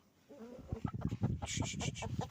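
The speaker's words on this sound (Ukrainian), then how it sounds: "Вже півень прийшов на розвідку, що тут робиться" A rooster clucks close by in a henhouse, giving a quick run of throaty clucks and short calls that start softly and grow busier over about two seconds.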